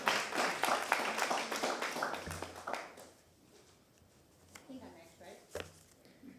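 An audience at a Tampa city council meeting claps in a dense burst that fades after a few seconds, followed by quieter scattered claps and a voice speaking over the room.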